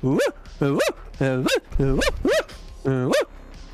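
A man imitates a dog with a run of about six sharp, rising and falling yelping barks in quick succession. The voice sits close and loud, and the barks alternate with brief pauses.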